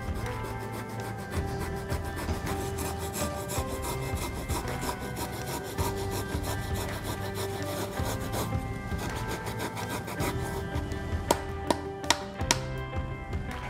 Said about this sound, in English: to grate our ginger, I'll just do it right on the cutting board and use the microplaner.